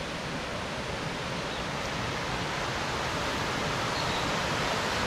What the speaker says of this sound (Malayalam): ഇവിടെ ചെറിയൊരു വെള്ളച്ചാട്ടം ഉണ്ട്, അത് കണ്ടോ